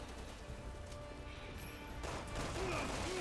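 Gunfire and a blast from a tank in Resident Evil 6, a dense, steady barrage of game combat noise with a heavier crash late on, no clear talk over it.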